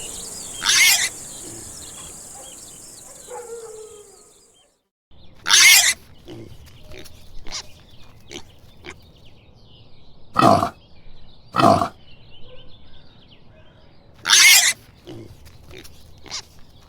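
A pig grunts in short, loud bursts, four or five of them spaced a few seconds apart with quieter snorts between, heard close up with no talk.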